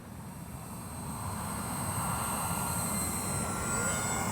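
An X-Fly Spitfire RC warbird model makes a gear-down flyby, its engine drone growing louder and holding as it passes close overhead with a steady whining tone.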